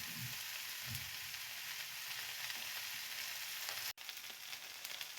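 Okra bhaji sizzling gently in a pan over low gas, a soft continuous frying hiss with faint stirring taps and one brief dropout near the end.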